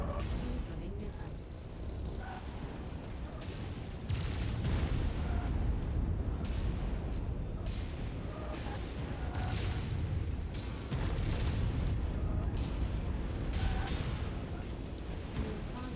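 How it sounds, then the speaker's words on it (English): Dense, continuous booms and rumbling blasts from a Leopard tank battle in a video game, with repeated heavy impacts over a constant low roar and a voice speaking intermittently. "Incoming missile."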